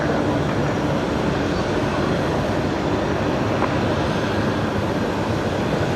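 Steady, broad engine roar of a medivac rescue aircraft departing Brisbane Airport at night, a continuous moderately loud rumble heard from a distance without speech.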